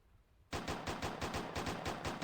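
Rapid automatic gunfire in the Uni Craft video game, a steady stream of evenly spaced loud shots starting abruptly after a quiet moment, with no speech over it.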